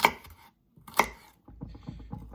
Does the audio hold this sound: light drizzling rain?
no